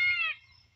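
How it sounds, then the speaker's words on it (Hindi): A peacock lets out one short, loud, shrill call close by, and then the air goes nearly quiet. "मोर बोल रहा है, मोर की आवाज़ सुनिएगा"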